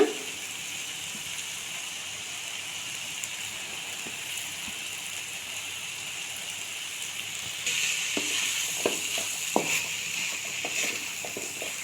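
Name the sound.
cooked rice being stirred and mixed in a frying pan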